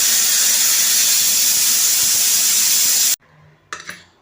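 A pressure cooker whistle venting steam for a pumpkin rice dish, a loud steady hiss lasting about three seconds that cuts off abruptly, followed by a brief faint clatter.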